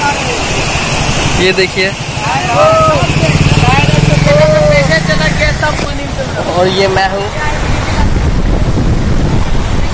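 Floodwater waves in Bhagalpur, Bihar, roll and rush as a steady, loud, broadband wash close by, with wind buffeting the microphone, under someone talking throughout.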